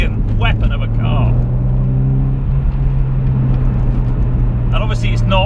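Mitsubishi Evo X FQ400 on a damp, greasy road: a steady, loud engine hum with a rising pitch, while a person talks over it at the start and again near the end.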